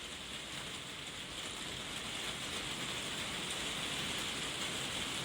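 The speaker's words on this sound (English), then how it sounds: "listen to the rain out there." Steady rain hisses outside in a constant, even wash of patter, moderately faint and uninterrupted, with no talking.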